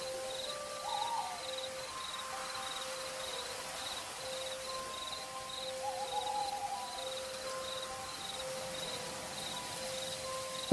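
A Eurasian eagle-owl gives deep, low hoots at a few spaced moments over a faint, steady bed of insect or cricket chirring, with no voices.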